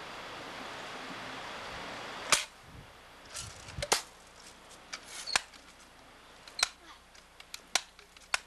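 Several sharp gunshots, separate and irregular, sound outdoors against a faint wash of background noise, with a few voices talking quietly.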